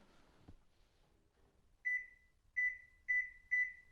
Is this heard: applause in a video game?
no